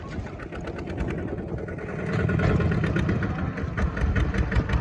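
A tractor engine runs steadily and fairly loud during a trip through a rural Thai forest area, with a rhythmic chugging pulse that grows a little louder midway and carries on alone without talk.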